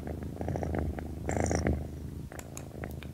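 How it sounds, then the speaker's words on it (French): A large cat purrs close up in a steady, rumbling rhythm of pulsing breaths, loud and continuous with no other sounds. "le chat qui ronronne numéro 2"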